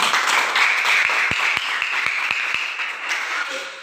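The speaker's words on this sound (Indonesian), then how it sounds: "Semua berikan tepuk tangan." A classroom of students applauds after group discussion presentations. Scattered clapping with a few distinct sharp claps stands out over a background of voices and room chatter, fading toward the end.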